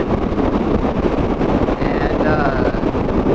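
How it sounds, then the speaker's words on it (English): Strong headwind buffets the microphone while a motorcycle is ridden, producing a loud, continuous roaring rush of wind noise with no pauses. "It's a headwind for sure."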